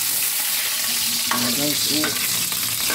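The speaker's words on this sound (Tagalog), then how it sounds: "So unahin ko yung bawang." Garlic frying in hot cooking oil for squid adobo, a steady close sizzle with stirring clinks and scrapes in the pan, with a brief word spoken over it.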